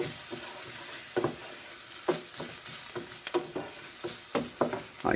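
Spoon stirring a cracked black peppercorn sauce with salt in a pan, soft scraping strokes in an irregular rhythm over a quiet sizzle, close and fairly faint.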